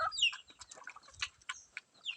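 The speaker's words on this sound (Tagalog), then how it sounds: "Yan yung mga alaga nating manok." Chickens cluck and chatter close by, a busy run of short clucks with no talking.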